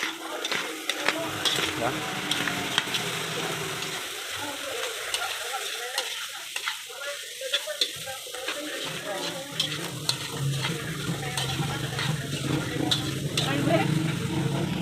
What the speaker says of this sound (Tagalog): So haluin natin.